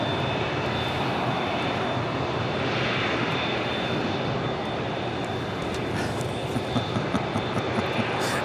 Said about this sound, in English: Cathay Pacific Cargo Flight 2080 coming in from Dallas, Fort Worth, Texas. This is 747-400.